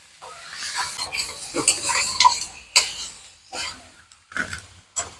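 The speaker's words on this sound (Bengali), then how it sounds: "এটাকে ভালো করে মাংসটাকে ভেজে নিতে হবে পেঁয়াজের সাথে" Mutton frying with onions in a pan as it is stirred: a run of scraping, clattering strokes with sharp utensil ticks against the metal, close up, tapering into sparser knocks.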